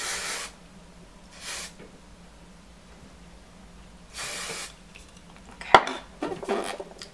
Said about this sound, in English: I'm going to take some hairspray and spray all the braid in